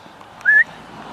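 A single short, clear whistle by a falconer calling a bird, lasting about a fifth of a second, slightly rising, sounding close and alone against quiet background.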